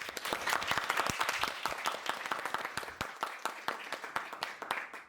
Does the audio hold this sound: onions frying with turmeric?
no